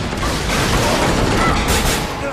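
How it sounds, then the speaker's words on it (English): An explosive tank is shot and blows up in Resident Evil 6 near the Ustanok, a dense, sustained rumbling blast with crackling debris filling the whole moment at steady loudness. "Here you need to shoot the explosive tank right near Ustanok"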